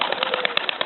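A wild pigeon caught at a lumber mill beats its wings rapidly as it is released, producing a close, quick series of flapping bursts at an even rhythm.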